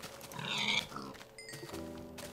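A pig in a Minecraft survival game gives a short oink and grunt, faint and close under soft game ambience, followed by brief chimes.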